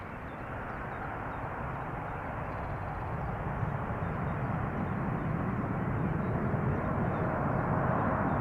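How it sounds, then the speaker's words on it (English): An Airbus A330neo airliner at Schiphol Airport on an overcast day gives a steady, distant jet roar that swells slowly and evenly across the whole stretch, with no voices over it. "An Airbus A330neo, 2 years old, first flight January 2022."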